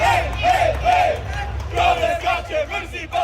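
A majority Bosnia and Herzegovina crowd fills a sold-out Lumen Field at a World Cup match against Qatar, roaring and chanting in rising, rhythmic waves of massed voices that swell and ebb throughout.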